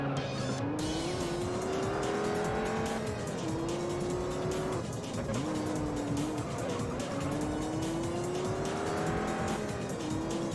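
Race car lapping a track in the video game Juiced, engine droning steadily and rising in repeated gear-shift sweeps, with tire squeal and skidding throughout, loud and continuous.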